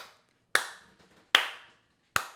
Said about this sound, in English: I'm giving you the claps,